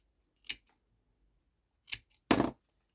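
Scissors snip off excess material from a small handmade nativity figure base: three quiet, separate cuts at close range, the last one longer and louder, with near silence between them.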